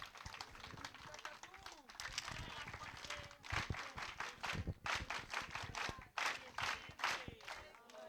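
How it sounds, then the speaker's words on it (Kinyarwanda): Worshippers at an ADEPR church prayer gathering clap in bursts of uneven, sharp hand claps, with voices and cries mixed in among them. "muyimpera amashyi ya special"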